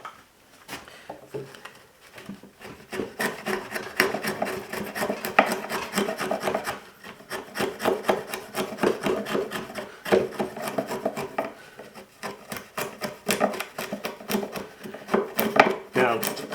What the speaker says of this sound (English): I switch over to the chisel.